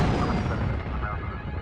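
A bombing explosion in the game Star Wars Galaxies, a loud dense rumbling blast that fills the whole moment with broad noise, steady and booming without a clear start or end.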